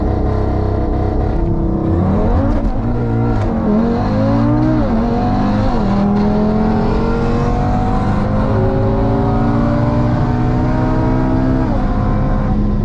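An 800 hp Audi TTRS drag car with a dual-clutch transmission launches hard and pulls through its gears, a loud sustained engine roar climbing in pitch with several upshift dips, heard close and without talk.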